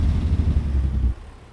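A heavy truck's engine brake in American Truck Simulator gives a loud, steady low rumble as the throttle lifts, then cuts off sharply near the end, with no talking.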